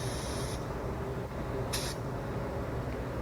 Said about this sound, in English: I got the AeroPro A610, spraying at 26 PSI.